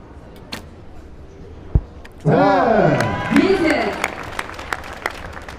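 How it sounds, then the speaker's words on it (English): A crowd at the 2019 Hyundai Archery World Championships bursts into loud cheering and applause that peaks and then fades over a few seconds, while a commentator talks over it. "the crowd getting right behind the Russian here"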